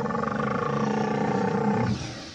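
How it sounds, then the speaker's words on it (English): A Tyrannosaurus rex roar, deep and drawn-out with a rough, rumbling texture, loud and sustained for about two seconds before fading at the end. "Our T-Rex friend sounds hungry."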